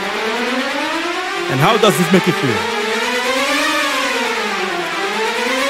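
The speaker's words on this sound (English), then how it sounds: "What we have is a string ensemble playing some chromatic runs that sound like this." A string ensemble plays chromatic runs that swoop up and down like howling wind, a steady wailing texture beneath a voice in the orchestral arrangement.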